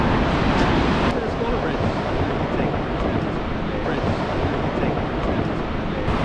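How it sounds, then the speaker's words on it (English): Waves crash onto coastal cliffs at Storms River mouth in Tsitsikamma National Park, a dense, loud, continuous roar of surf and wind, with some talking underneath. "watch those waves crashing onto those cliffs."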